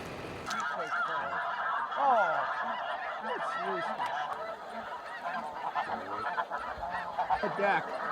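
Snow geese honk in a dense chorus during a spring hunt in Canada, many overlapping calls from a flock, steady and moderately loud with no talk over them.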